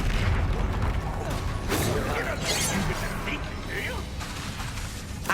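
An Accio spell effect during a duel in Hogwarts Legacy, with mechanical whooshes, cracks and bursts in quick succession amid combat noise, and voices talking over it.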